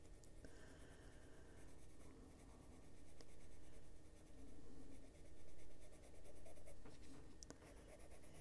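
A colored pencil scratches across paper while shading a fairy illustration in an adult coloring book, soft, close, continuous strokes in back-and-forth bursts with brief pauses between passes.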